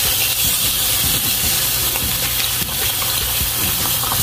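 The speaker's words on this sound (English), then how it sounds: "You can flip the beef" Beef sirloin flipped in a hot pan sizzles loudly and continuously with a steady hiss and some stirring scrapes, close up with no talk.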